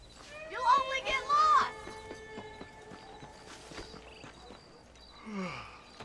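A horse clip-clops along in Red Dead Redemption, its steady hoofbeats running beneath character voices that speak over the first part.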